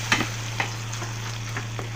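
Tempering for moong dal frying in a pan, a soft steady sizzle with a low hum beneath and a few faint clicks and scrapes of stirring.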